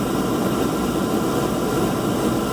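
A Beckett oil furnace burner runs with a steady, even low roar and hum, close and constant without a break, and no voices are heard.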